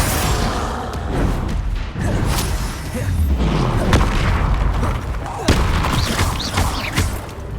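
Bombarda explosion spells going off during combat in Hogwarts Legacy, a dense run of loud booming blasts and thumps, one after another over a busy battle soundscape.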